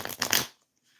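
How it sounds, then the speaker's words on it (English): A deck of tarot cards is riffled in one short, crisp flurry of papery flutter lasting about half a second, then silence. "let's shuffle the cards for this guy"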